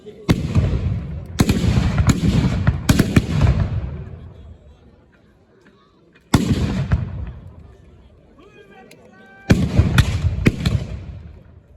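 Musket volleys crack out in a 1793 battle reenactment at Arlon, Belgium: sharp bursts at about 0.3, 1.5, 2.2, 3, 6.4 and 9.6 seconds, each trailing into a long rolling echo, with crowd murmur beneath.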